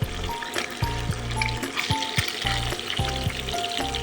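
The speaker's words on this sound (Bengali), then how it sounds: "ডিম আর আলুটা খুব ভালোভাবে ভাজা হয়ে গেছে।" Egg and potato fry in a pan, giving a steady close sizzle with rhythmic low thumps and stirring noises recurring every half second or so.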